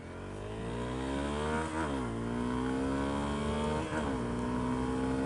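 A Honda CRF 250L motorcycle accelerates hard on a road to catch a car ahead, its engine note climbing steadily, dropping briefly at two gear shifts, then rising again, loud and close from the rider's position.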